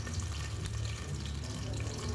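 Chopped onion fries in hot oil in a pan, a faint, steady hiss and crackle that holds evenly throughout with no voices.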